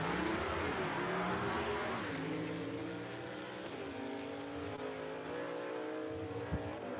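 Gasser drag cars, a 1952 Pontiac Chieftain and a Ford Fairlane, launch at a dragway, loud engines revving up through rising gear sweeps and then easing off as the run pulls away.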